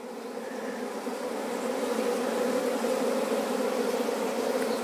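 Honey bees buzzing at a hive in a rural Pauri garden, a dense, steady close-up drone swelling slightly louder and continuing without pause.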